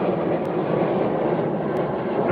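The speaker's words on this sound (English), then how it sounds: "Oh, there's a plane." An airplane flies overhead outdoors, a steady broad engine roar holding evenly throughout, fairly loud and with no talk.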